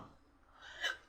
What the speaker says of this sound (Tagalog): Oh, sinisinok-sinok pa, par.